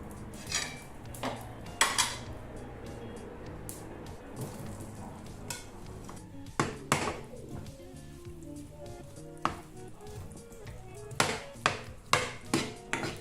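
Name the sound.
vegetables added to an oiled pan, cooking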